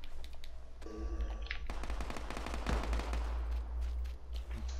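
Quick bursts of PUBG gunfire crackle over a low engine hum, with a brief electronic beeping tone near the start.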